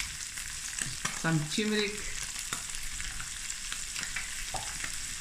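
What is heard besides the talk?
stirring and frying spices in a pan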